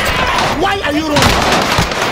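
Gunfire in the Warzone video game: dense, overlapping shots in a loud battle mix, with voices talking over the shooting.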